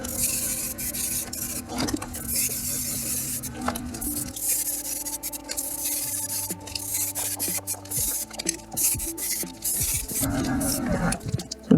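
Proline spray paint hisses onto an RC car body in short, light bursts for a dust coat, close up with small pauses between passes.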